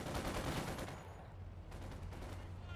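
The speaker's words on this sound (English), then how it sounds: "The guards has only one DP firing, so he should be able to force them back" DP machine gun fire in a Company of Heroes 2 battle, a dense rattling burst of automatic shots amid broadband battlefield noise, fairly loud and continuous with no talk over it.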